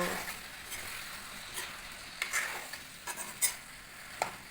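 Potatoes and vegetables stirred in a pan, with soft scraping and sporadic metallic clinks of a utensil against the pan over a faint, steady sizzle, close and alone, with no speech.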